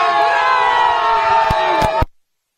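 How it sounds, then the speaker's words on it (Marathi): A crowd of cricket fans cheers loudly after India's T20 World Cup final win over South Africa, a dense, continuous roar of shouting voices that cuts off abruptly after about two seconds. "क्रिकेट प्रेमींचा जल्लोष देशात सगळीकडे सुरू झालाय"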